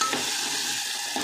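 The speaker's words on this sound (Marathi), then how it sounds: "त्याच्यामध्ये टमाटर टाकून देते. तर छान परतून द्यायचे टमाटर." Tomatoes sizzle and get stirred in a hot pan during home cooking of a Marathi lunch, a steady close frying hiss with soft scraping from the stirring, no voices.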